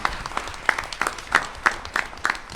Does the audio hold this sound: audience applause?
yes